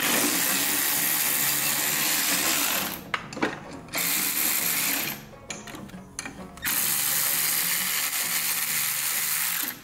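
A half-inch ratchet wrench clicks rapidly and steadily, close up, pausing briefly a couple of times before resuming its fast pawl chatter.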